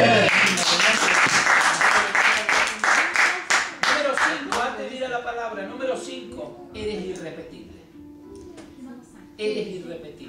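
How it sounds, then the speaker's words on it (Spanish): An audience at a church gathering breaks into brisk, loud applause that fades after a few seconds, followed by a speaker talking over the dying claps. "dense un aplauso"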